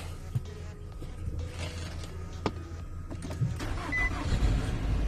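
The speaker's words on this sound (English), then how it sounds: "See if the engine starts." A 2016 Nissan Rogue with push-button start is started after key programming: faint clicks and relay sounds, then the engine cranks and catches near the end, rising into a low idle rumble, heard up close.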